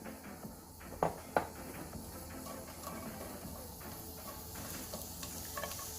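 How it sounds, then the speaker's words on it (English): A medium onion cut into slices dry roasting in a pan with no oil: a soft, steady sizzle and hiss, broken by a few scraping stirs, with no talk. "I have one medium size onion cut into slices, and I'm going to dry roast this as well."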